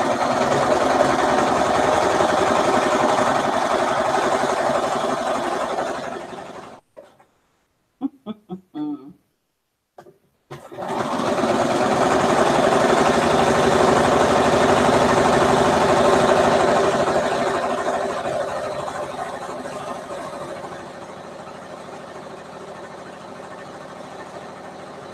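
A sewing machine stitches quilt seams with a loud, steady mechanical whir. It stops briefly with a few clicks, then runs again and gradually eases in intensity.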